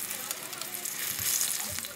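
Bananas frying in hot oil for saging rebosado, a Filipino banana fritter, give a steady, close sizzle with small crackles and pops throughout, with no talking.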